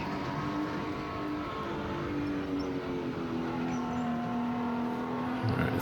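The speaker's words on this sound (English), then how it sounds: "I actually really like the fake engine noise" Simulated engine noise from a racing kart in a qualifying heat, a continuous droning tone that rises and shifts pitch as the kart accelerates through the lap, fairly quiet and steady with no talking.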